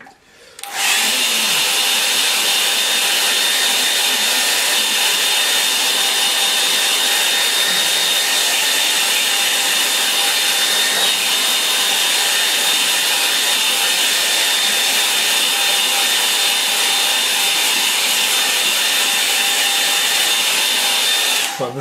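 A hair dryer drying a watercolour painting switches on abruptly and runs as a steady, loud, constant whir with a faint high whine for over twenty seconds, with no talking.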